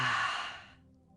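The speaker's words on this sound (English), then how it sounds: "exhale loudly as you bring your arms back down" Loud, breathy exhale during a yoga back exercise, a single long sigh-like breath out that trails away into quiet.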